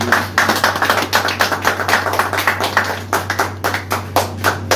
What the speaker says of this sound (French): Applaudissez encore une fois pour elle.